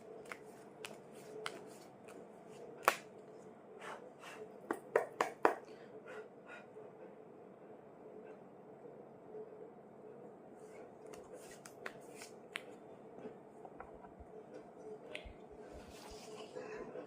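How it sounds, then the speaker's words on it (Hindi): A deck of playing cards being shuffled by hand indoors, quiet riffling and flicking with a cluster of sharper snaps in the middle, faint and close. "So I am shuffling the cards."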